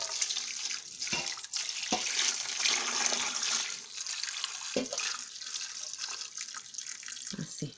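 Water pours steadily into a pot of white corn cobs set for boiling with tequesquite, a continuous splashing rush with a few brief breaks, fairly close and alone without talk.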